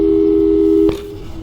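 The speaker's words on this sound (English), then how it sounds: "let's give your parents a call right now" Telephone busy signal from the Portal 2 video game: a steady, loud electronic tone that holds for almost a second, then cuts off with a brief click, leaving a quieter hum of low background noise.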